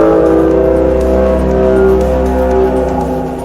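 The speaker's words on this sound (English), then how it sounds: "Its second ability is F to do a shockwave." Shockwave ability in a Skibidi Toilet siege defense video game: a loud, sustained low rumbling blast with droning tonal layers, steady for about three seconds before easing off slightly, heard alone.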